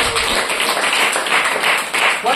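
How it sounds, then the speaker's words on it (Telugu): A Telugu church congregation claps loudly together, a dense, continuous patter of many hands close by, with a voice faintly audible beneath it. "కొట్టండి చప్పట్లు గట్టిగా."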